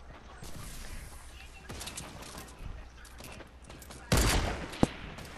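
Gunfire in Fortnite, a scattered burst of shots with one loud close blast near the end and a sharp crack after it, over a low game background.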